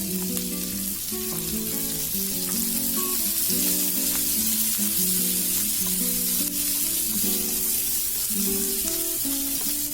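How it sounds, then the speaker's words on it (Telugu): Onions sizzle steadily in a pan for onion chutney, a continuous loud frying hiss with a low tonal hum underneath and no talking. "ఆనియన్స్ ఫ్రై అవ్వాలండి"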